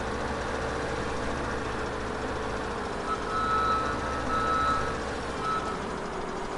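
Warning beeps from a reversing truck in Farming Simulator, repeating at an even pace over a low, steady engine idle, with no talking.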